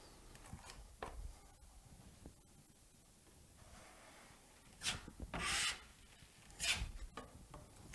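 A Hyde Flexible Pro stainless joint knife spreads drywall compound into a wide 8 to 10 inch swath, giving quiet, intermittent scraping and rubbing strokes with a couple of louder rasping passes near the end.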